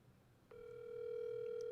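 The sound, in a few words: telephone dial tone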